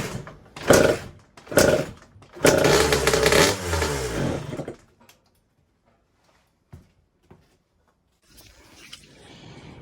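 A small two-stroke engine on a Honda CR80 dirt bike sputters in two short bursts, then catches and revs loudly for a couple of seconds before cutting out, leaving near silence and faint rustling.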